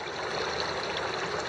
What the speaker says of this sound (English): There's a chute in the bedrock that the water funnels through. It gets pretty pushy down there